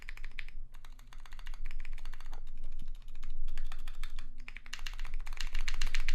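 Typing on a KBD67 MKII mechanical keyboard fitted with a Sorbothane plate mod and quieted stabilizers, close and fairly loud. Rapid clacky keystrokes come in dense bursts, separated by short pauses.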